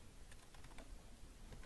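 Keys tapped on a computer keyboard while entering a command in Rhino drawing software, a quick run of light, faint clicks over steady background hiss.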